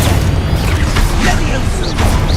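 A Confringo fire spell blast from the Hogwarts Legacy video game booms out at close range, a loud burst over steady game ambience with a player speaking over it.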